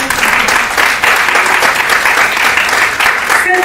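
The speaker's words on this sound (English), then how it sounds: "So an applaud to all of us for that." Audience applause at a college prize distribution function fills the whole stretch, a dense, steady roar of many hands clapping at close range with no break.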